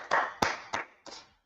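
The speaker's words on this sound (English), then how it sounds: "Let's clap it up for the Most High God" Four sharp hand claps in a steady, slightly uneven rhythm, close and fairly loud, from a lone person leading praise for God at a religious gathering.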